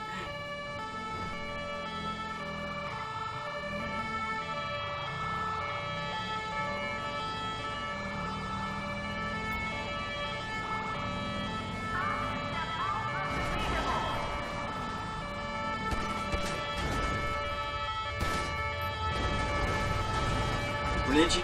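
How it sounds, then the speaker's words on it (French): A wailing ambulance siren sweeping up and down continuously in a police game, with engine noise and people talking over it. "On va couper nos sirènes, ils servent à rien."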